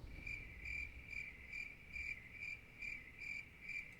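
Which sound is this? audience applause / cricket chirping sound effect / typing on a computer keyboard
cricket chirping sound effect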